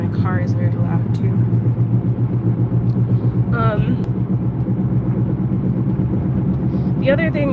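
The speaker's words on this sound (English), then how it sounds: "My car is very loud too." A steady, low car engine rumble drones continuously, with a person talking over it throughout.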